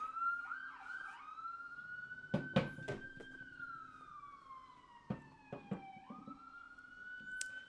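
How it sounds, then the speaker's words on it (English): Emergency siren passing right outside in New York City, a loud wailing tone sweeping up and down with steady traffic rumble beneath and a few sharp knocks nearby. "Comes another damn siren."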